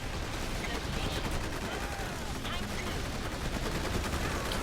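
Cannons fire in the strategy video game Forged Battalion as a dense, continuous barrage of loud overlapping booms and rattling shots that fill the scene without pause.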